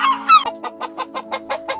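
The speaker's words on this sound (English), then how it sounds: "hen and chicken," Hen and chicken clucking up close: a couple of higher squawks, then a steady run of about eight short, evenly spaced clucks.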